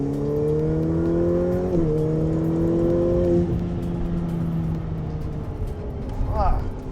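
Ferrari F8 Tributo with a twin-turbo V8 pulls hard through the gears, a loud close engine note rising, dipping at a shift near two seconds, then holding steady before easing off.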